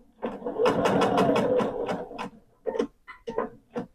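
Sewing machine stitching a quilted tote bag in a fast continuous burst, followed by a few short, separate runs of stitches.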